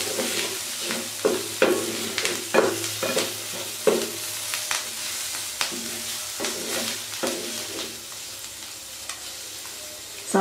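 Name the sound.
stirring spicy onion salan in the pan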